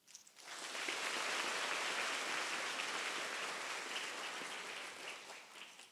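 An audience at a ceremony for Polwan (policewomen) cadets breaks into sustained applause, a broad, even wash of many hands that swells quickly and holds steady, heard faintly from a distance.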